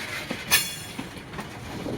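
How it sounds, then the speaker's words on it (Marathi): A train stands at a station, wheels and carriages rumbling steadily close by, with one louder clank or squeal burst partway through against the continuous rail noise. "बघा ट्रेन आता इथे थांबल थोडा वेळ मग जाईल."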